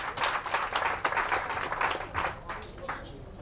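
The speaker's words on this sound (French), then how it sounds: "Applaudissez pour eux." A crowd at a Bible quiz game event claps in a lively, uneven patter, with individual hand claps standing out in bursts before it gradually tapers off, and some voices mixed in.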